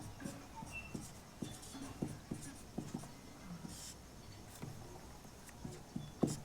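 Pen scratching on paper while a definition is written by hand for a class 10 chemistry lesson, soft and close, in short irregular strokes with small pauses between them.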